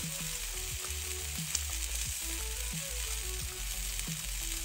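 A medium-sized egg, lightly salted, fries in a frying pan with a steady, moderate sizzle and intermittent crackling pops, up close and without speech.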